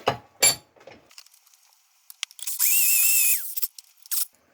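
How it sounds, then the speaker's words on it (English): Power drill with 8 mm and 10 mm bits bores holes for engine mounts in a Ford Escort MK1 Zetec conversion: a short steady whining run amid scattered clicks and taps, close and fairly loud. "using the 10mm bit to centre divot it, 8mm to pilot it, and then 10mm to open it back up again"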